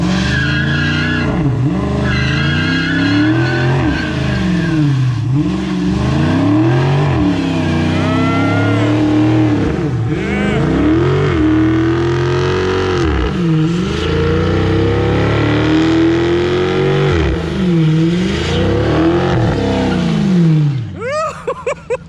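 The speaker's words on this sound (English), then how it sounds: "That's how we start off on a Friday, smoking tires." A car doing a burnout on a Friday, its engine revving hard and rising and falling in pitch over a steady loud roar of spinning, smoking tires, continuing nonstop before tapering at the end.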